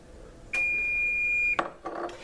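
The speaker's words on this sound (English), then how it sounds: "that is my little beeper going off telling me that my butter is up here and ready" A small kitchen timer beeper sounds one sustained, high electronic tone for about a second, then a couple of soft clicks and light handling noises follow.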